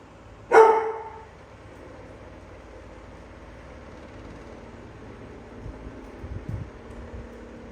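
A dog gives a single loud bark near a window, followed by quiet room ambience with faint low rumbles.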